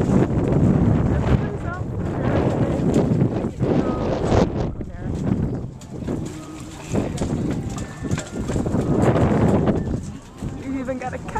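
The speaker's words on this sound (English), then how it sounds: "It's incredibly windy for some reason." Strong wind at sea batters the microphone aboard a small boat off Fire Island, a loud continuous low roar that surges and eases throughout, with voices talking over it.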